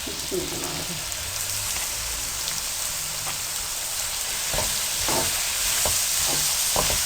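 Tomatoes fry in hot oil in a pan for an egg and potato bhujia, a continuous rain-like sizzle punctuated by several spatula scrapes and knocks against the pan.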